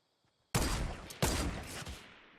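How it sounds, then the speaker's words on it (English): Fortnite gunfire as a player fires and quickly re-aims: two loud, sharp bursts about half a second apart, each decaying slowly with a lingering tail, no talking. "So as you take your first shot, let go quickly and click it down again with the right click."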